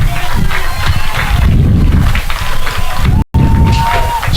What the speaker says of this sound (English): well-deserved round of applause as they come off the field